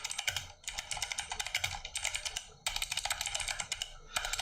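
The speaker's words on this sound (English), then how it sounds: "Let me check my typing speed" Rapid clattering keystrokes on a computer keyboard during a typing speed test, a dense, steady stream of close clicks broken by a few brief pauses.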